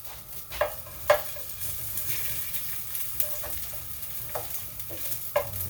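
Garlic cloves toast with quiet sizzling in a frying pan, with occasional scraping stirs, soft clicks and taps from a utensil against the pan at irregular moments.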